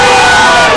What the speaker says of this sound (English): Gotta love to hear the crowd back here.